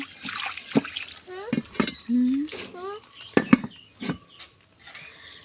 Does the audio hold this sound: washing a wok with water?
yes